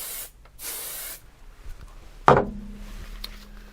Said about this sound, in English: We're going to layer up 505 adhesive, paper to stop getting it everywhere